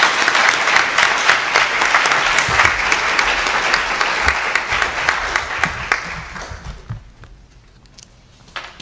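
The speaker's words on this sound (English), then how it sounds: "One more round of applause for all of our Distinguished Performance awardees." An audience at a university staff awards ceremony applauds, dense and loud at first, then thinning into scattered claps that fade toward the end.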